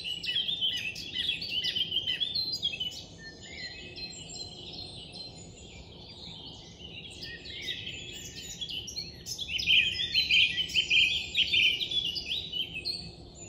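A blackcap and a song thrush sing through a dawn chorus in Hembury woods in May, their bright, overlapping phrases running continuously with a faint hum of insects beneath.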